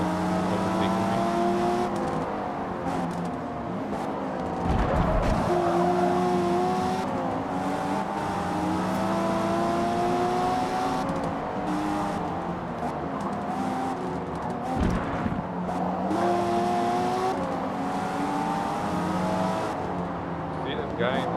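Race car engines in Forza Motorsport, Modern Tour Series, a loud steady drone that climbs in pitch through repeated gear shifts, with a couple of thumping bumps and a voice talking over it.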